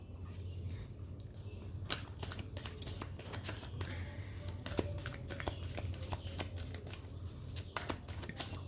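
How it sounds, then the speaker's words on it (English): A deck of tarot cards is shuffled by hand close up, a steady run of soft riffling flicks and slides, fairly quiet and unaccompanied by talk. "let me pull out some more cards for you"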